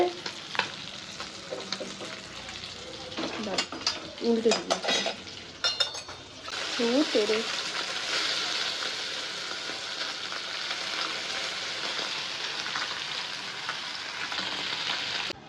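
Fish frying and starting to burn in a pan: clattering utensils and scraping come first, then a steady, close, loud sizzle carries on to the end, with a brief voice early on.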